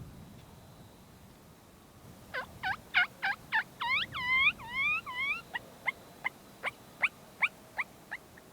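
Wild turkey toms in South Texas gobble in a rapid run of loud rattling calls, then a string of sharper spaced clucks, close by and alone against a quiet outdoor background.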